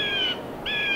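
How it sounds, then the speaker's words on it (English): Birds in a Wizard City tree in Wizard101 call with two bursts of high, steady piping notes separated by a brief gap, fairly clear against a soft background. "Isn't that weird how I go over here and then the bird starts chirping?"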